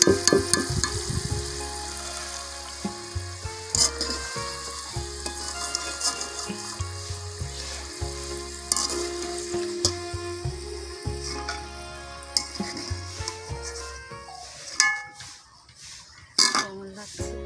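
French fries sizzling in hot oil in a village kitchen, a steady close crackle and bubble punctuated by clinks of a metal utensil against the pan, with someone talking over it.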